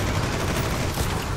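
Red Solstice 2: Survivors combat gunfire, a dense rattle of rapid shots blending into a loud, continuous burst with no voices.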